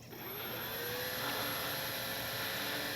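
Electric motors of an RC PBY Catalina model seaplane on a lake whine steadily in reverse thrust, a close, sustained buzzing drone that rises quickly and then holds level, with no talking.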